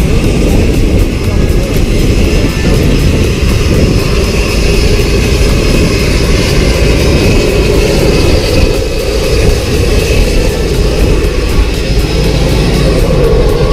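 Loud, steady roar of an airplane engine inside the cabin of a skydiving aircraft in Tennessee, droning continuously throughout with people talking over it.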